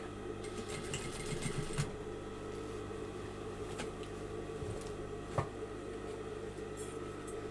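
Sewing machine running steadily, stitching along on top of a seam allowance, a continuous mechanical whir with a few brief louder knocks, close by and alone.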